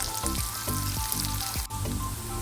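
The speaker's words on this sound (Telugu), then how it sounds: "ఇవి కొద్దిగా ఫ్రై అయినాక మళ్ళీ మనం ఇంకో వైపు తిప్పేసి కాల్చుకుందాం ఇప్పుడు కొద్దిగా ఫ్రై అవుతున్నాయండి" Pieces of bitter gourd frying in a pan give a steady, close sizzle and crackle throughout, with faint tonal background sound and no talking.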